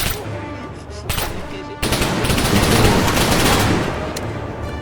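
Video game gunfire in Wasteland 3: dense, loud bursts of automatic shots that swell into sustained, crackling fire after a couple of single cracks, with no voices over it.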